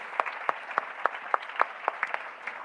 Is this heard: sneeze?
no